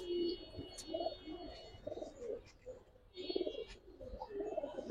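Pigeons of old Bangladeshi flying breeds coo in a loft, soft repeated low calls rising and falling through the clip with faint chirps over a steady background hum.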